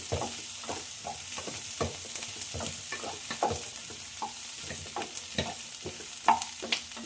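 Hot oil sizzles steadily as a tempering for a lentil dal is stirred, with scraping and occasional crackles and pops, close by and without talking.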